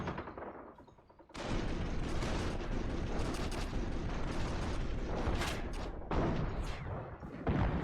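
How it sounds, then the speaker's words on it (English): Heavy mortar and gunfire barrage in a multiplayer war game, starting after a quiet second and then a dense, continuous roar of blasts and rapid shots, loud and sustained throughout. "Another mortar out should make Axis lives even more difficult"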